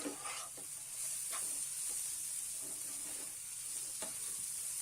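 Chinese fried rice being stirred in a hot pan gives a steady bright sizzle throughout, punctuated by several brief scraping stir strokes spaced about a second apart, fairly quiet and close with no talking.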